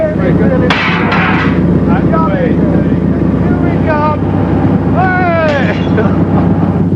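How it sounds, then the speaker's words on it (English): A vibration machine shakes a house to make an artificial earthquake, a loud constant low rumble and roar filling the whole stretch while voices talk over it. "Only when the machine's really racing, virtually shaking the house to destruction, do things start to fly"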